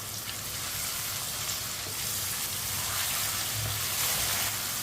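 Half a kilo of chicken fries in a pan while being stirred with a spoon, giving a steady, close sizzle and crackle that holds throughout without pause.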